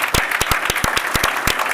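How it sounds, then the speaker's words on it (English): Brief burst of sharp, close handclaps from an audience cheering a team at a demo day, the claps dense and uneven over under two seconds. "big round of applause to the team for just helping us"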